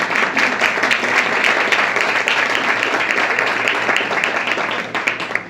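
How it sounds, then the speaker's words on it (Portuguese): A church congregation at an evangelistic service applauds in praise. Dense, continuous clapping stays loud throughout and eases slightly near the end. "Você pode aplaudir o Senhor pela vida dessa mulher?"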